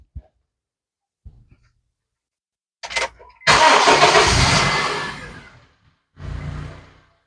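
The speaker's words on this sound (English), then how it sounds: "let's start the vehicle up again" A car with an idle and stalling problem cranks briefly and catches, the engine roaring up loudly for about two seconds before settling, then revving once more, close by with no talk.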